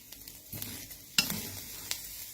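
Dry-roasting chilies in a hot pan, with a soft steady sizzle broken by a few sharp stirring scrapes and clacks, close and fairly quiet.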